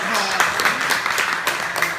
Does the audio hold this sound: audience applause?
yes